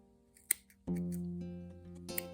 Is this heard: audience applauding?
no